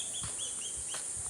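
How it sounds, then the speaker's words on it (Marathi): Birds chirp in a village orchard, with several short high calls repeating over a steady hiss of background noise, faint and somewhat distant, with a few low thumps mixed in. "पक्ष्यांचा गोड किलबिलाट"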